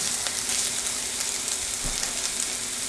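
Food sits in a hot pan with the stove flame turned off and sizzles in a loud, continuous, bright hiss right up close, steady throughout, with no talking.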